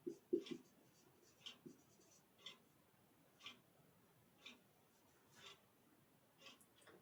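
Chalk or marker writing on a board during a maths lecture: faint, scattered scratchy taps and short strokes in an irregular rhythm, with short pauses between marks and a quiet room around them.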